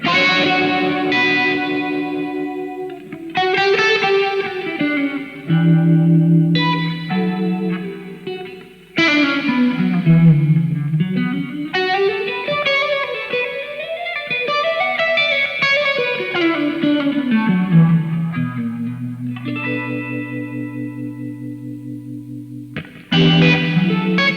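An electric guitar through an Eventide Riptide overdrive pedal plays a bluesy, sustained lead line with bends and ringing notes, loud and continuous with no talking.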